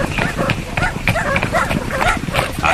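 Dogs barking repeatedly in a Spanish radio drama sound effect, loud and close, with rapid overlapping barks filling the whole span.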